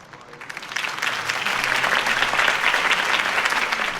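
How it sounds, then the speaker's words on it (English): Crowd applause in the Batman Telltale Series video game following Harvey Dent's campaign speech, rising from a soft start into broad, sustained clapping from many hands, steady and fairly distant. "could have heard that applause"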